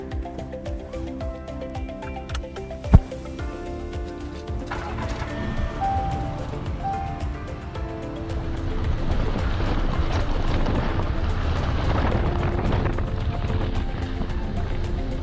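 A Jaguar E-Pace with a 2-litre turbocharged four-cylinder engine drives along, its engine drone and road roar building steadily louder as speed rises, with wind noise around the cabin.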